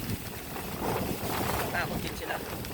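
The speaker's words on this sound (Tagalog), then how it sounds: "Malakas yung hangin." Strong wind buffets a microphone on a mountain road in Zambales during a bike ride, a loud, continuous roaring rush with faint voices beneath it.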